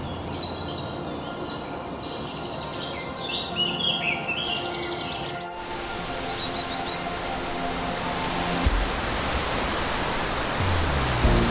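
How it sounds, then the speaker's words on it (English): Steady broadband roar of the Vuringsfossen waterfall in Norway, loud and continuous throughout, with faint bird chirps over it early on and the rushing water growing slightly heavier toward the end. "Around the Vuringsfossen waterfall, mist lingers all year round"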